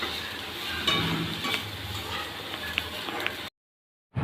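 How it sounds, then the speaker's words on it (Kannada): Spices and chopped coriander leaves fry on a low flame for a chicken curry while being stirred. A steady close sizzle comes with occasional utensil scrapes, then cuts abruptly to silence near the end. "ಇದನ್ನು ಕೂಡ ಸಣ್ಣ ಉರಿಯಲ್ಲಿ ಫ್ರೈ ಮಾಡಿ ಆಯಿತಾ."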